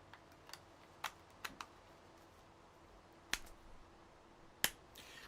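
Scattered keystrokes on a computer keyboard during a Minecraft stream: a handful of sharp, isolated clicks at uneven intervals, faint against a quiet room background.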